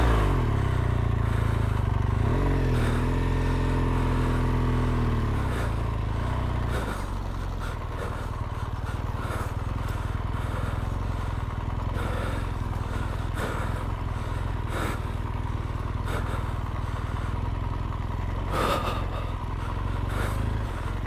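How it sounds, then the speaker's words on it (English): Big motorcycles labor through deep sand, a steady loud engine drone with revving shifts early on and scattered clatter and scraping over the top. "Man, it's so hard on these big bikes in this deep sand."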